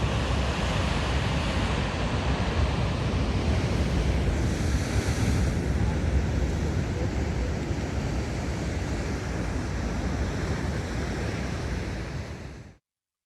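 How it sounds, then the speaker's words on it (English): Rough, enormous sea surf at Marsden, South Shields, a continuous loud roar of breaking waves mixed with heavy wind buffeting the microphone, steady throughout with no voices. "sea's enormous here. It's borderline unfishable"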